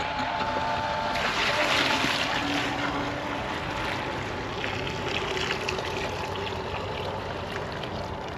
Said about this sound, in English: Here we have a pump inside of a 5-gallon bucket, which pumps up into our 250-gallon IBC tote.